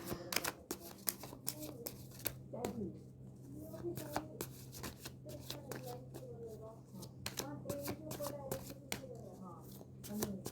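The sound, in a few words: shuffling and picking tarot cards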